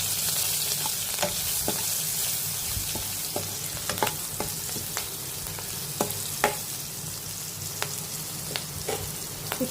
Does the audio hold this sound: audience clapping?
no